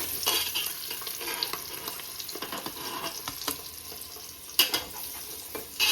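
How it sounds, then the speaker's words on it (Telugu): Eggs frying in oil with masala give a low, crackling sizzle broken by scraping stirs and several sharp clicks of a utensil against the pan. "ఎగ్స్ని మంచిగా ఫ్రై చేసుకొని బయటికి తీసుకోవాలన్నమాట"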